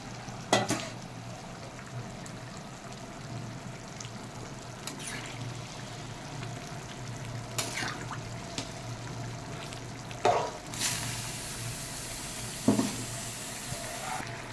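Aloo dum potatoes in a pan give a faint, low sizzle and simmer, with occasional sharp spoon clinks and scraping stirs scattered throughout.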